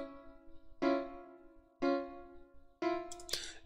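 Major chords sounded in sequence, three clean struck chords roughly a second apart each ringing out and fading, with a brighter final attack; quiet, no voices.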